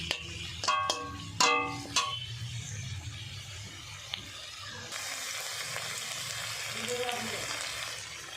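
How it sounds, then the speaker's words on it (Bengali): Cumin paste and chilli frying and being stirred in a pan for a dried fish dish, a steady close sizzle with brief scraping clatter early on and a brighter burst of frying later. "দিয়ে জিরে বাটা লঙ্কা দিয়ে ভালো করে কষতে থাকবো"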